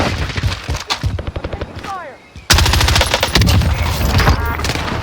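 Rapid automatic rifle fire in the Warzone video game, an AMAX assault rifle, loud close bursts that stop briefly then resume in a sustained stream, with voices talking over the action.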